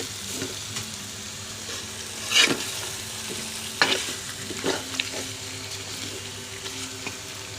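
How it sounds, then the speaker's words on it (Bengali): Chicken and potatoes fry in a pan while being stirred, a steady sizzle broken by several sharp scraping stirs and clinks, close and alone without talk. "ঝোল ঝোল করে মুরগির গোশ রান্না করবো আলু দিয়ে বেশি করে"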